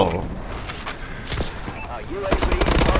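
Rapid automatic fire from a Bal-27 rifle in the video game Call of Duty: Advanced Warfare, in dense bursts of loud sharp cracks amid other battle sounds, with excited talk over it.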